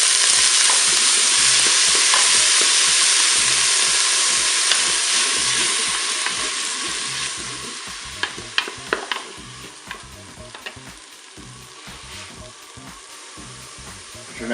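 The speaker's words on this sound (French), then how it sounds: "Au bout d'une minute, j'ajoute mon poireau." Leeks sauté in a Cookeo multicooker on its browning setting as the base for a fish soup, giving a loud, steady sizzle and hiss that eases off midway, with faint stirring clicks and no talk.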